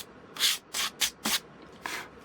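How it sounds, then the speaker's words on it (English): Five quick, light strokes of sandpaper rubbing on wood, close by, in an uneven back-and-forth rhythm with short pauses. "just give it the very tiniest little bit of a sand"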